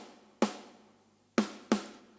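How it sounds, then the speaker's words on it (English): Drum kit heard through overhead mics with reverb, including a Gretsch mid-tuned snare, in a groove metal mix; three sharp, loud hits land alone with reverberant tails decaying between them. "I've got a lot of the overhead mic, which sounds like this."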